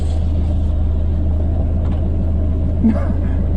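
A Geo Tracker idling low and steady while backing up during off-road wheeling at Jones Creek, a constant close rumble with a faint knock near the end and no talking.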